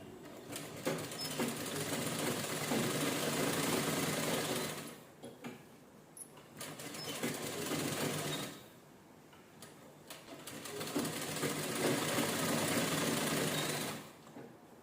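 A sewing machine runs in three long steady bursts, close and even, stitching a canvas strip onto a princess-style blouse front neckline, with brief quieter gaps between runs.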